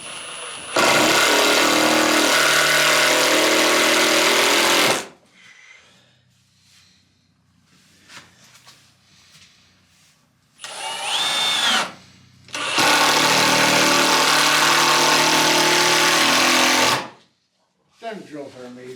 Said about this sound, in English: Them drills are amazing.